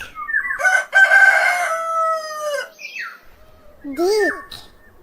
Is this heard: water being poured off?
no